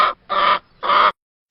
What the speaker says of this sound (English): Weka.